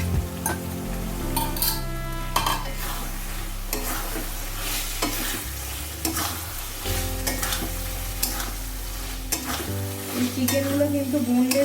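Boneless chicken pieces frying and being stirred in a spiced, oil-rich masala for a chicken bharta gravy, a steady close sizzle broken by scraping strokes of the spoon throughout, with no talking.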